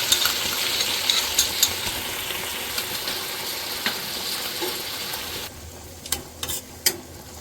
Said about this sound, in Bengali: এবার সসটা মধ্যে এটা ফুটবে